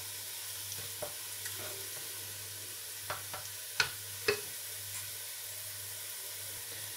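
Onions browning in a pot for chicken pulao, a steady close sizzle with a few sharp spoon clicks and stirring scrapes.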